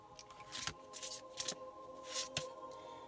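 Tarot cards shuffled and drawn by hand, giving a few quick papery riffles and soft slaps in bursts with pauses, close and fairly quiet over a faint steady hum.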